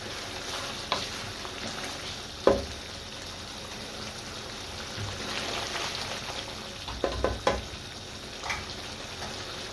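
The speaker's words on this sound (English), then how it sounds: "it needs to come to a good sizzle again with the oil splitting" A low, steady sizzle of beef jalfrezi curry frying in oil, with occasional clinks and scrapes of stirring scattered throughout.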